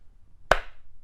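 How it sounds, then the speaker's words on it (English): A single sharp hand clap standing in for a letter in the Bingo song at a preschool group meeting, crisp and close, with quiet room sound before and after. "We don't say them out loud, we think them, and we clap instead."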